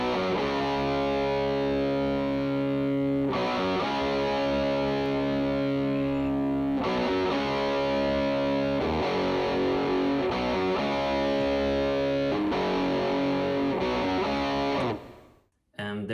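Distorted electric guitar through a Dumble amp into an Alnico speaker, light gain, washed in Quantec room reverb, playing sustained chords in a steady rhythm for about fifteen seconds before cutting off abruptly.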